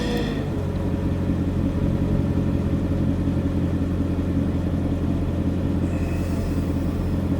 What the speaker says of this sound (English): Let's see if this actually changes when I blip the throttle.